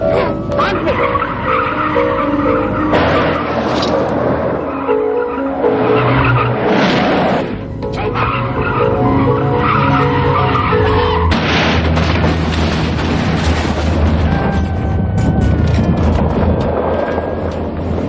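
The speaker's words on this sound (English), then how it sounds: "killed late yesterday in an automobile crash" Tires skid and a car crashes in a 1991 film scene, a sustained loud screech with engine roar and impact noise running throughout, with shouting voices mixed in.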